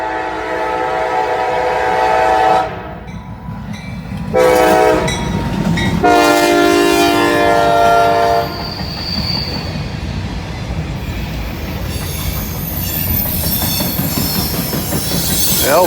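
Commuter train passing at Walton station, loud and close, with harmonic horn blasts between about 3 and 8 seconds over a steady roar of rolling wheels and rail noise.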